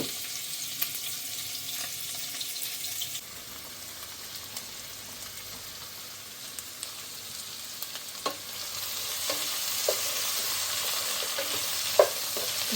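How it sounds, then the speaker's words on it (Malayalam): Sliced onion, green chilies and curry leaves frying with popped mustard seeds in a pan, heard as a steady close sizzle with occasional stirring clicks and scrapes and no talking. "കടുക് പൊട്ടിച്ചതിന് ശേഷം ഞാൻ സബോള ഇട്ടു, പച്ചമുളക് ഇട്ടു, പിന്നെ കറിവേപ്പില ഇട്ടു കേട്ടോ."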